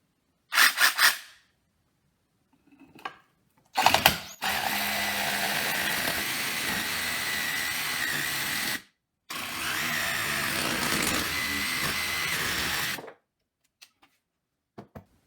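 A power tool cuts a wooden knuckle duster shape from a board in two long, steady whining runs of about five and four seconds, with short bursts and clatter before and after.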